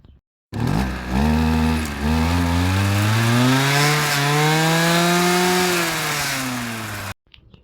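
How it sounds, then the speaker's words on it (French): A Kawasaki TH34 two-stroke brush cutter engine starts up and runs, revving up and holding a loud, steady whine for several seconds before stopping abruptly. "comme tu vois, le moteur fonctionne très bien"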